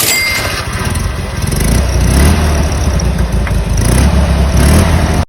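A Fiat two-cylinder car engine runs loud and close, a lumpy, uneven low throb with a slight rise in revs partway through before it cuts off abruptly.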